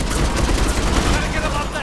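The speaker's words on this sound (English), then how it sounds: "Enemy on the mounted gun!" Sustained gunfire from a mounted gun in the video game Mass Effect 3, a dense continuous burst of shots filling the whole moment, loud and close, amid battle noise.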